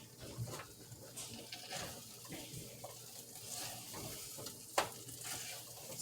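Quiet sizzling and stirring as quinoa cooks uncovered in a pan over high heat, tossed now and then, with soft scrapes and clicks over a low steady hiss and no speech.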